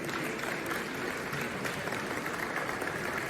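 An audience at an inauguration speech applauds, a steady, even wash of many hands clapping that sounds somewhat distant and holds throughout without a break, no talk over it.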